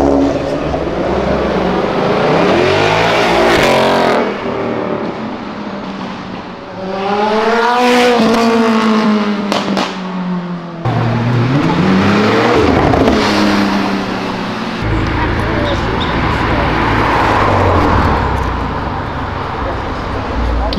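A Ferrari accelerating hard along a city avenue, its engine revving loudly and sweeping up through the gears with tire squeal, close and dominant, while people talk over it.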